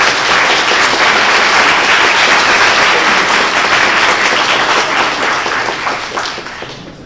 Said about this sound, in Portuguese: Uma salva de palmas para o Dirceu.